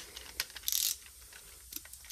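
Bolts with washers are done up on a Honda engine using a ratchet, giving close, crisp clicking. A fast burst of ratcheting sits in the middle, with scattered metallic ticks and clinks around it in a quiet garage.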